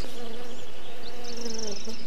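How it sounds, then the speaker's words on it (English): Honeybees feeding on catkin nectar in spring, a close, loud, continuous buzzing drone with overlapping wingbeat hums and no other sound. "And honeybees dip greedily into their nectar."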